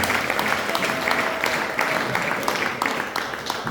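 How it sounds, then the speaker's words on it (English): A church congregation at a Sunday service claps hands together in sustained, fairly loud applause, the individual claps forming a dense rhythmic patter throughout. "Let's clap hands for them."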